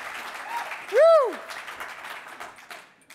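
Clapping and cheering from the crowd at a charity auction, with a loud whooping cry rising and falling in the middle over the continuing applause.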